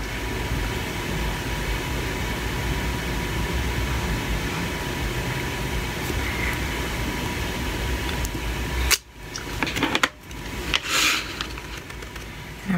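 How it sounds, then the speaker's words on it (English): Heat gun blowing hot air to heat emboss black embossing powder, a steady loud whooshing hiss for about nine seconds, then cut off with a few handling clicks and bumps. "I'm heat embossing it with black embossing powder"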